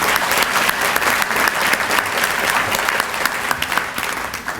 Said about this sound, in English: So we give her a hand also.